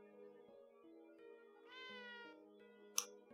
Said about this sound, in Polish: Gdzieś ktoś tu jeszcze miauczy.